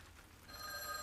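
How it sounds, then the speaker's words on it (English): A telephone bell starts ringing partway through, faint and electronic, in the Witch on the Holy Night game, with a quiet background before the ring begins. "The phone's incessant ringing continued."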